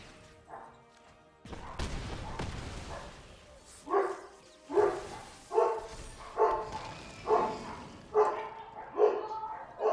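Several dogs bark in a steady run of loud, close, evenly spaced woofs, following a crash and a burst of noise at the start of the stretch.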